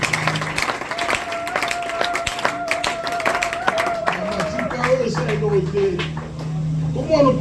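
A church congregation claps and cheers in acclaim, a steady, lively patter of many hands under a voice and sustained musical tones.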